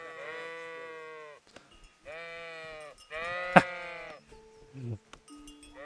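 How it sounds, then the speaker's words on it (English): Sheep bleat several times in wavering, nasal calls with short pauses between in the video game Kingdom Come: Deliverance, close and clear, with a sharp click in the middle and no talking. "But, sheep!"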